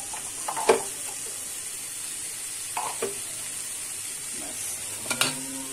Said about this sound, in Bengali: তেলটা দিয়ে দিচ্ছি আবার নেড়ে চেড়ে নিই